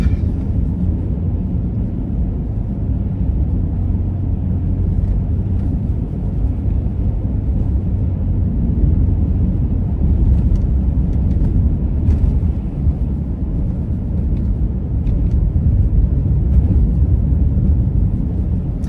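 Car driving a Canadian winter backroad through snow squalls, a steady loud low rumble of engine and tire noise from inside the vehicle, unchanging throughout with no talking.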